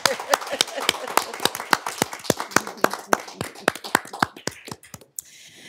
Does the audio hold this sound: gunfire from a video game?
no